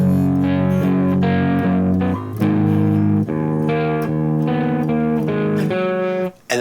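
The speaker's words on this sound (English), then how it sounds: "it kind of cuts down the distortion for the last two chords" Electric guitar strummed through a distortion effect, sustained chords ringing one after another with brief gaps between them, clearly in front, with the distortion thinning toward the final two chords and no talk.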